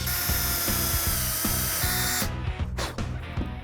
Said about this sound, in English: We're going to pre-drill a bunch of holes that we're going to put our screws in